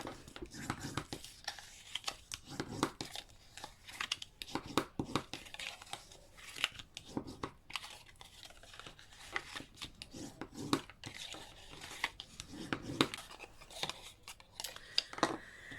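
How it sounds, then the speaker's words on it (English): Scissors snip away card stock for a layered hexagonal handmade card, with repeated quiet cuts, paper rustling and crinkling, close and faint, steady throughout. "I'll just quickly cut those away."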